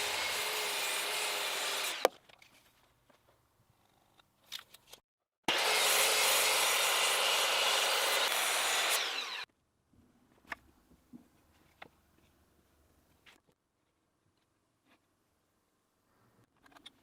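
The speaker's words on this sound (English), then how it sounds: "I cut every lap joint with a sliding miter saw" A sliding miter saw cuts lap joints in wood: two loud, sustained rasping cuts of about two and four seconds, separated by quiet stretches of scattered clicks and knocks as the board is handled.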